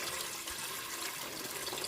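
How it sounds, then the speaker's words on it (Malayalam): Warm water pours into a metal idli steamer pot in a kitchen, a steady splashing rush that continues throughout the moment. "ഇങ്ങനെ ഒരു ഇഡ്ഡലിച്ചെമ്പ് എടുത്ത് അതിൽ ചെറു ചൂടുവെള്ളം ഒഴിക്കും."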